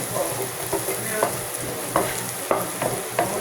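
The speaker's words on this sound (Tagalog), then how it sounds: "Yung onion, igigisa natin hanggang lumambot siya." Onion sautés in a pan as the base for a creamy spaghetti sauce, giving a steady loud sizzle with periodic stirring scrapes at a slow, even rhythm, close up and with no voices.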